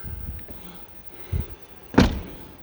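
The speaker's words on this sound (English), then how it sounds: "Door." A Pilote P720 FC Spring Edition motorhome door swings shut with a solid thunk near the two-second mark, preceded by a softer knock, in a quiet setting.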